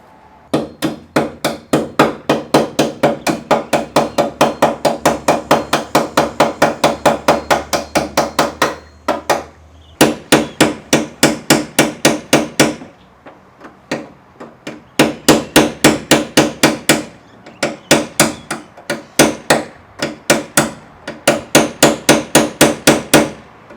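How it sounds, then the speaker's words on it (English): Steady rapid hammer blows on sheet metal of a DeLorean hood, loud and close, in long rhythmic bursts separated by short pauses. "that has to be done with a little bit of art and a little bit of hammer"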